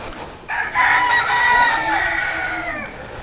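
A rooster crows loudly and close by at a chicken farm: one long drawn-out crow lasting about two seconds over a low background rumble, with no talking.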